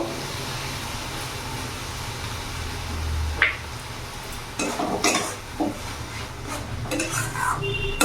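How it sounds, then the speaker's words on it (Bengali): Poppy-cashew paste being stirred into oil-separated fried masala in a pan, with a soft sizzle under scraping spoon and pan clatter, irregular stirring strokes growing busier toward the end. "এবার এখানে আমি পোস্ত কাজু বাটাটা দিয়ে দেবো।"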